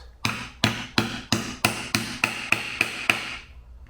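A new bearing race is hammered down into its bore, about ten steady sharp metallic blows at an even rhythm, the later strikes ringing brighter as it bottoms out, close and loud with no voices.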